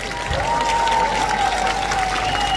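A crowd applauds at a regional harvest festival in Silesia after a performance by a highland folk band, with steady dense clapping and a sustained tone running over it.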